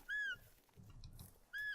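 A boar caller sounds in theHunter: Call of the Wild: two short, high, squealing call bursts, one at the start and one at the end, with faint low grunting rumbles in between, all fairly quiet.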